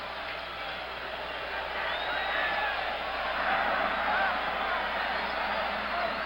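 A stadium crowd at a 1977 Pitt vs Clemson college football game makes a steady, broad roar throughout, with a dense murmur and no break.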